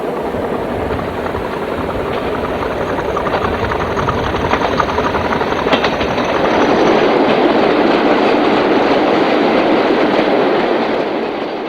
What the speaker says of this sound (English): mixed freight heading for Miller Hill at Almouth in May 1974.